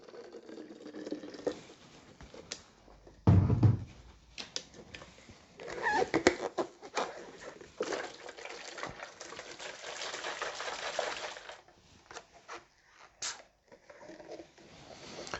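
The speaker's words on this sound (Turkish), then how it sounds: "Öz şişesinin içerisine bir miktar sıcak su koyacağım." Hot water poured into a bottle of lemon extract for lemon wine, then shaken, giving close liquid splashing and sloshing with intermittent knocks and rattles over a steady run, no speech.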